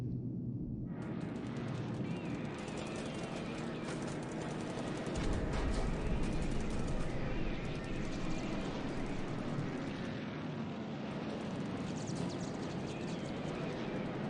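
Bombs strike an airbase runway in the War in the Pacific strategy game, a steady rumbling roar of explosions that thickens into a heavier low boom partway through and keeps going throughout.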